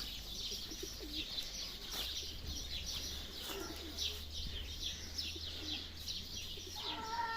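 Soft pigeon coos repeat in the background over a steady hum, with a few faint chirps mixed in.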